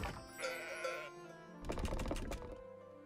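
Sheep bleating at a sheep farm in a winter strategy game, two wavering bleats one after another, fairly faint and clear with no talk.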